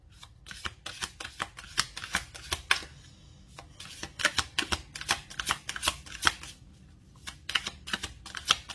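A tarot card deck being shuffled by hand, quick riffling flicks and snaps in several dense bursts with short pauses, close and crisp.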